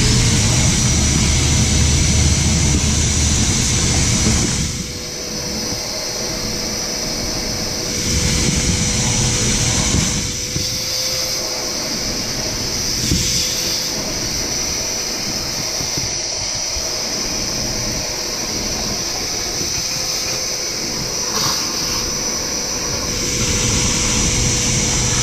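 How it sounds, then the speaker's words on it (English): A vacuum cleaner roars steadily inside a Ford F-350 truck cab, loud and close, its pitch dipping briefly as the nozzle shifts or gets blocked over about twenty-five seconds. "More vacuuming, there's a bunch of rat shit and stuff back here."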